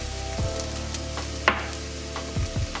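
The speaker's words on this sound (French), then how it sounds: "On la fait bien revenir dans le beurre végétal." Minced shallot with a little garlic powder fries in vegan butter in a saucepan, a steady close sizzle broken by a few brief stirring scrapes and clinks, with no talk.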